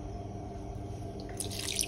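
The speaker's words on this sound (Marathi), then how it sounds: "असं एका चाळणीवरती सगळं पाणी निथळून घ्यायचं" Water draining from soaked horse gram through a strainer, a soft continuous trickle with light dripping that grows slightly brighter and splashier toward the end, close and quiet with no talking.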